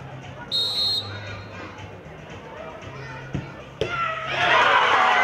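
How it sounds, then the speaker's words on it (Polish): Crowd at a football penalty shootout in a town tournament breaks into applause and cheers toward the end, rising loudly after a buzzer-like tone, with an announcer speaking over a public address. "To wielkie brawa, broni Adam ten rzut karny"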